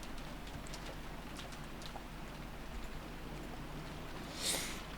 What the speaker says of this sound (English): The only voice that called after them was the sound of the rain.